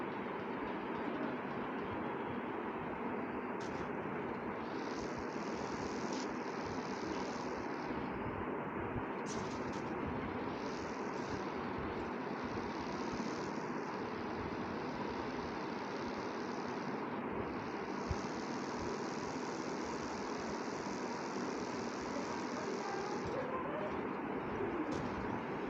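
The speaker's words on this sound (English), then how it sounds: "There's a vehicle coming to the drop." A vehicle engine approaches in the PUBG Mobile video game. A continuous low droning rumble runs for about twenty-five seconds with brief higher tones breaking in now and then.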